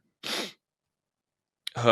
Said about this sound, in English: Forgive my sneeze.